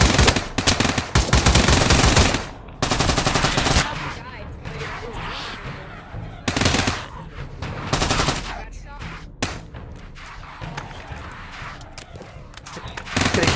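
Bursts of rapid automatic gunfire from the VR game Pavlov on Quest, loud and sharp, alternating with quieter stretches of scattered shots and movement sounds.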